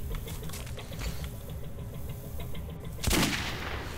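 Gunfire in the shooter game Metro 2033, a rapid patter of distant shots over a dense background rumble, ending in one louder, sharper burst near the end, with no talking.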